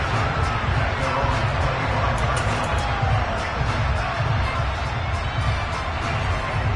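Home crowd at an NFL playoff game between the Bengals and the Chiefs, a steady roar of cheering and chanting that carries on throughout with a few louder swells.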